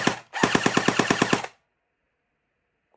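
An airsoft replica gun fires a quick burst of about ten rapid, evenly spaced sharp shots, loud and close, cutting off abruptly into near silence.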